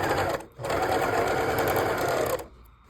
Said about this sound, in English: keep sewing and let the string come all the way out